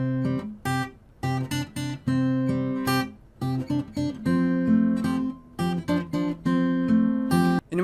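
A song played up to speed on acoustic guitar: quick, bright, rhythmic plucking with choppy muted gaps between ringing chords, close-miked and without voices.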